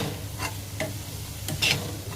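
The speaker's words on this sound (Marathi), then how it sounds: "गोबीला मिक्स करून घेते।" Shredded cabbage stirred with a gram flour spice mix in a pan, soft scraping strokes at intervals over a low sizzle, close and moderately quiet.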